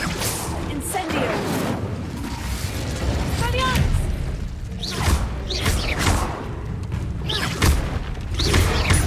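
Incendio fire spell cast during Hogwarts Legacy gameplay, a run of whooshing bursts and booming thuds over a dense game soundscape, with a voice speaking between casts.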